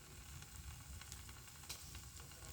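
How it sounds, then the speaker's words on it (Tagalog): Quiet, steady bubbling and hissing of liquid boiling in a pot, with faint pops, heard up close and low in level. "Kumukulo lang."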